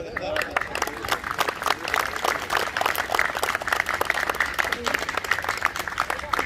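Applause from an audience at a Holi celebration poetry event, a dense steady patter of many hands clapping that fills the whole stretch at moderate loudness.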